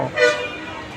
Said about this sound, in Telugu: విజయనగరం ఆర్టీసీ బస్ స్టేషన్లో